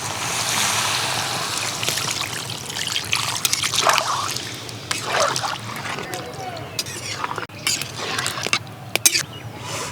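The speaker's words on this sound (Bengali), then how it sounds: "এবার জল দিয়ে দেবো।" Water is poured into a cooking pan of spice-fried potatoes for a Bengali potato dum, a trickling, splashing pour with sizzling and stirring clatter mixed in, while a voice speaks intermittently.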